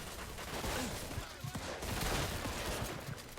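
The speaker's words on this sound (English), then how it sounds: "I wish I wouldn't have to reload in the middle of shooting" Gunfire in the video game Mafia 2 Definitive Edition, a dense rapid fusillade of shots and bursts running continuously through a cluttered mix.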